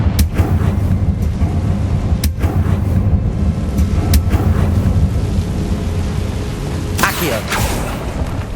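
Confringo blasting spells in Hogwarts Legacy burst as several sharp, loud blasts over a dense, continuous rumbling game soundscape, with the clearest hits near the start and a pair of bright cracks toward the end.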